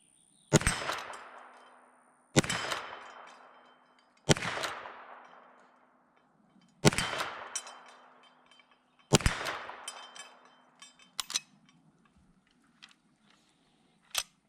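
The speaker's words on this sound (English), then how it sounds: "Let's pop some rounds down range." An 1873 Winchester lever-action rifle in 45 Colt fires five loud shots a couple of seconds apart, each with a ringing decay, followed by lighter lever-action clicks and clanks.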